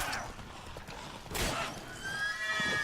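A horse neighs in The Witcher 3 game, a sharp whinny bursting out over a busy mix of combat noise and hoof clops, with a higher trailing squeal toward the end.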